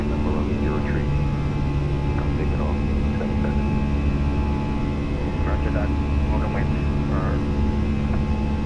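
Steady roar of Fenix Airbus A320 jet engines at climb thrust in Microsoft Flight Simulator, a constant broadband drone with low hum that holds level throughout, with faint voices murmuring underneath.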